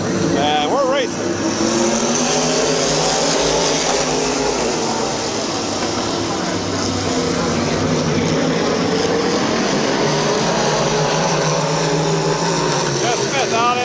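Race cars roar around the oval at Midvale Speedway, a loud continuous pack of engines droning and shifting throughout, with an announcer's voice calling over the din.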